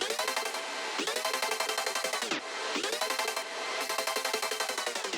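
Intro ambience from a melodic drum and bass track, heavily distorted, squashed and stuttered into a gritty, pulsing wash of rapid rhythmic chops with swelling sweeps, steady and alone without voices.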